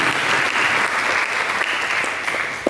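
A church congregation claps for Jesus during worship, a loud, dense, steady wash of many hands that continues throughout with barely any voice.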